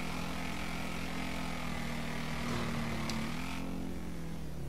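A steady, droning motorcycle engine in GTA V hums continuously at close range, its pitch shifting slightly partway through.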